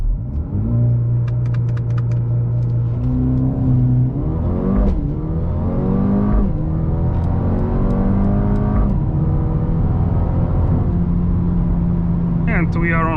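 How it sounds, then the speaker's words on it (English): A Mercedes-AMG A35 launches from a race start on a highway, its engine note loud and close, climbing in pitch through several gear changes with brief dips between them, a continuous roaring rise over about thirteen seconds. "we will try race start, left foot on the brake and smash the throttle and then release the brake"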